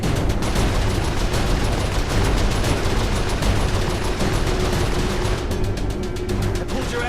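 Turret gunfire in the Saints Row IV video game rattles on as a continuous loud barrage of rapid shots, unbroken throughout with a dense low rumble, no talk over it.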